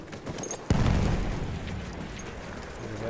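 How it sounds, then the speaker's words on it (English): A grenade blast in the video game Battlefield 1 erupts as one sharp, loud boom that rolls into a long rumbling tail, set against ongoing battlefield noise. "Throwing a grenade!"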